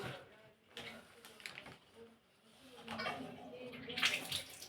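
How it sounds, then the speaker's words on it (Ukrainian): Tap water runs into a plastic bag in a bathroom, a soft uneven splashing and rushing that swells toward the end, heard up close beneath a voice talking. "вот пакет, зараз буду в нее набирать воды"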